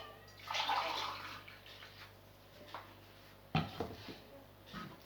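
Water being poured from a glass into a pot for cooking, a faint splashing pour early on, then scattered clinks and a couple of further short splashes, quiet and close.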